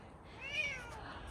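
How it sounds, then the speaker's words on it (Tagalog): A cat meows once in a drawn-out, rising-and-falling call, fairly close and clear over quiet street background, with no talking. "Yung mga pusa naman na ganyan, may mga nagpapakain yan dyan."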